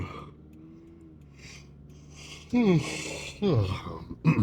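A person yawns audibly, a drawn-out breathy groan with falling pitch, followed by two shorter vocalized yawn sounds close to the mic.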